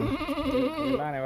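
A dairy goat gives one long, wavering bleat up close, trembling throughout and dipping lower at the end.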